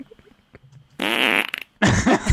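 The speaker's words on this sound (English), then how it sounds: "You gotta play the fart again now." Two loud, close fart sound effects play in quick succession, each a buzzy, sputtering burst lasting about half a second, after a few faint clicks and quiet background noises.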